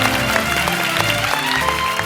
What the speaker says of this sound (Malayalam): ഒരു വലിയ കൈയടി കൊടുത്തു